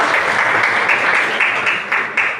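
Students in a maths classroom give a round of applause, a steady patter of many hands with a few sharper claps standing out near the end.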